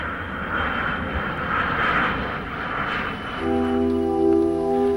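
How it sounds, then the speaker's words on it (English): Engines of a C-141 military jet airlift airplane roar steadily and loudly, with a broad whooshing rush that builds and then gains a sustained tonal whine near the end; no talking. "the 141 was the first jet airplane designed to do a military airlift job"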